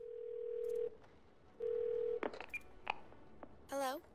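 Phone dialing tones in Twelve Minutes: two sustained dial-tone beeps, then a quick sequence of keypad tones, ending in a warbling ring, all fairly quiet.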